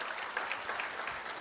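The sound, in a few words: congregation applause for the Lord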